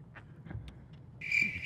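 A cricket begins chirping in a steady, shrill trill partway through, after a few soft scattered clicks over a quiet low hum.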